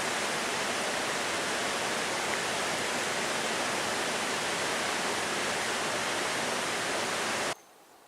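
A waterfall beside a campsite on the Superior Hiking Trail gives a steady, loud, broadband rush that holds evenly for over seven seconds, then cuts off abruptly, with no voices.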